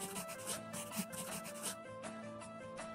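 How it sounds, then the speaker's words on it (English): Chalk rubs back and forth over a paper engineering drawing in quick, repeated strokes, a close, dry scratching with steady rhythm, backed by faint music. "Rub the chalk over the engineering drawing to reveal how we can engineer a solution"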